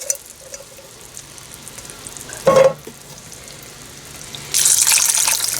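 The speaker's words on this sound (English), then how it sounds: "we're just going to dump in the rest of our vegetables. Juice and all" Canned vegetables and their juice are dumped into a crock pot for an oniony pork stew, giving a short splashing pour midway and a louder sustained liquid rush near the end, with no talk.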